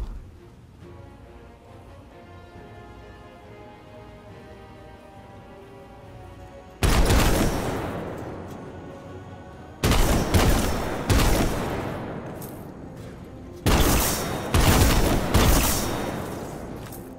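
A heavy machine gun in the Destiny 2 video game fires several loud sustained bursts, each a dense roaring stream of shots with pauses between them, after a quiet ambient stretch.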